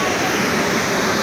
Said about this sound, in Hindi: दूसरे तरफ की वाटरफॉल आपको दिखाता हूँ।